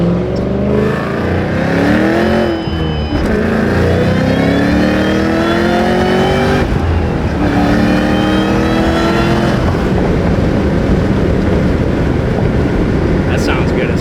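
A car fitted with a custom-fabricated Valvetronic exhaust and a supercharger blower revs repeatedly, the engine note rising and falling in loud, close pulls with steady exhaust drone between them.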